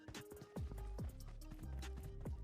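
Heavy, rhythmic thudding footsteps running nearby in PUBG Mobile, each step a deep booming impact over a continuous low rumble.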